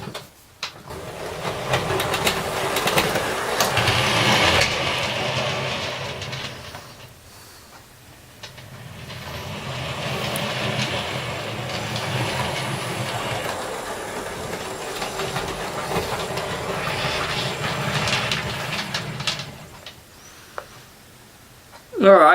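A model railway class 50 locomotive runs along the track with a rattling mechanical whir, fading in and out as it passes, quiet in between and briefly louder at the end.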